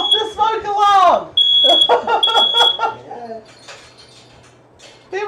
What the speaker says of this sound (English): You know it's a good session when you set off the smoke alarm.